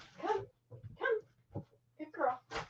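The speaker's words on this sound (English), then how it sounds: "The dog wants in" A dog whimpering to be let in: short, high whines and yips in a broken rhythm, fairly close, under a steady low hum, each cry brief and pleading.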